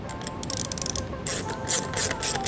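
Close ratcheting clicks come from tightening screws while fitting a custom steering wheel with carbon paddles into a BMW F30 335i, delivered in quick bursts of short mechanical ticks.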